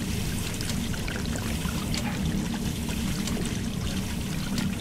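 Steady running water pouring and trickling in a basement in the video game Hello Neighbor, a continuous even stream heard alone at moderate loudness.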